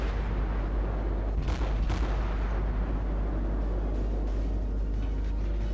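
A Cleveland cruiser in World of Warships fires high-explosive shells, with two sharp booming salvos close together over a constant deep rumble of background noise.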